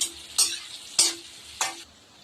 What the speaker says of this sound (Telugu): ఆనియన్స్, పచ్చిమిరపకాయలు వేసుకున్నాం కదా, ఇది బాగా ఫ్రై కొంచెం ఎర్రగా వేగిన తర్వాత వరకు వేసుకుందాము